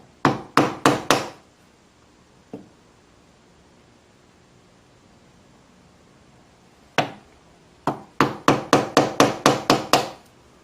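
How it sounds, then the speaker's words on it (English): Small wooden slabs about 3/16 inch thick are split off a block on a workbench to make window sash pegs, heard as close, sharp knocks in quick bursts of four and then about nine, with a lone tap and quiet gaps between. "So I'll just split off 3 or 4 little slabs that are about 3/16 of an inch."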